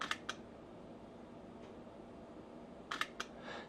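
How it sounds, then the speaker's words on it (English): Camera shutter firing a quick burst of bracketed exposures on a two-second timer during a real estate photography shoot; two sharp clicks, a pause, then a tight cluster of three clicks against quiet room tone. "you click off your shutter, which has a 2-second,"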